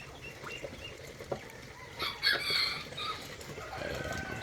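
Domestic ducks (itik) from a laying flock are being fed, making scattered close quacks and chattering calls over a steady background of rustling and feeding noise.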